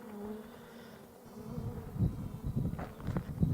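Honey bees buzz softly close by around a queen cage, a low steady drone with a few louder rising buzzes toward the end.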